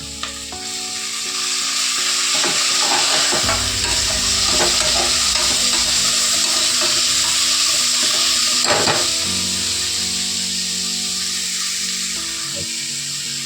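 Tomatoes fry and sizzle in masala in a pan for coconut milk vegetable pulao, a steady loud sizzle with intermittent stirring scrapes throughout.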